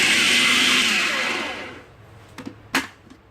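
An electric chopper whirs loudly as it blends beef kebab batter with eggs and coriander, a steady high motor whine that winds down to silence, followed by a couple of faint clinks.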